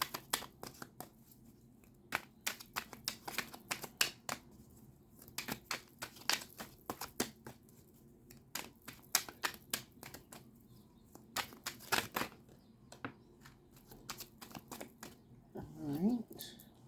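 Cards being shuffled and drawn for a tarot reading, with soft riffling, flicking and sliding card sounds in irregular bursts, close and quiet, while a person talks over them.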